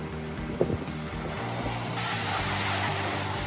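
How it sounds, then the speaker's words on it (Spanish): Waves on Lake Superior at Superior, Wisconsin, a continuous broad wash of surf rolling in, steady and fairly loud with one brief splash near the start. "Estas olas sirven para surfear."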